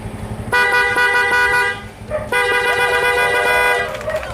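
A Honda XRM FI motorcycle horn blares in two long, loud honks separated by a short pause, close by and bright, with no talk over it.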